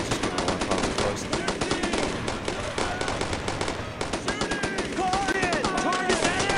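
Rapid machine-gun bursts and rifle fire crackle without pause in a Brothers in Arms: Road to Hill 30 firefight, loud and close, with shouting voices mixed in over the dense gunfire.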